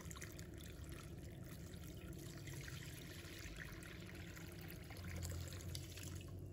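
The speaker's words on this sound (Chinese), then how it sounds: "倒入清水" Clean water pours steadily into a bowl to rinse pieces of sea bass, a continuous close splashing trickle that holds at an even level throughout and grows slightly fuller near the end.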